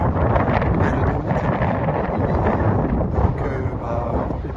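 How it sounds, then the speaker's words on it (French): Strong wind buffets the microphone in the open near the Chocolate Hills of Bohol, a loud continuous roaring rush with gusty swells throughout. "malheureusement il y a un vent, mais un vent"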